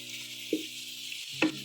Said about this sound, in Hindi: अदरक और लहसुन का पेस्ट थोड़ा सा फ्राई करके उसमें ये बोनलेस चिकन 1 kg ये डाला है